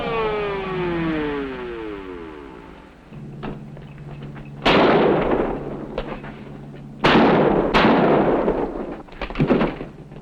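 Gunfire from men shooting in a crime drama: after a fading siren-like wail, several loud, sharp blasts ring out close by, each trailing off in echoing rumble.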